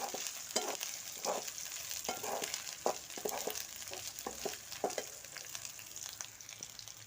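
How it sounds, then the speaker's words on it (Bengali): Garlic and onion frying in a pan for egg bhuna, a steady soft sizzle broken by repeated scraping strokes of a spatula as the mixture is stirred, fairly quiet and without talk. "এখন রসুনটাকেও নেড়ে চেড়ে নেব কাঁচা গন্ধ যাওয়া পর্যন্ত"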